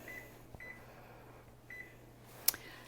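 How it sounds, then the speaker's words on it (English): A kitchen timer is set for a lemon pie baking in the oven, giving a few faint short beeps spaced out over a quiet kitchen with a low appliance hum, ending in a sharper click. "Let me set my timer."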